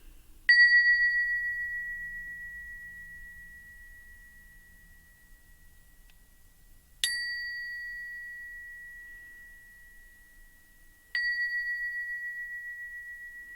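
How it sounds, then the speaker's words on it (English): A meditation bell struck three times in a quiet room, each clear ringing strike decaying slowly into near silence before the next, spaced several seconds apart with no voices. "I'm going to ring the bell one more time."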